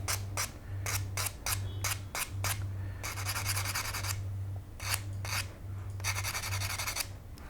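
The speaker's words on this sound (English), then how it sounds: "all you need to clean it up is we use one of our trusty sanding boards" A 240-grit sanding board rubs along the edge of a brass sheet for a scale model, giving bursts of short rasping strokes that alternate with longer sweeps over a low steady hum.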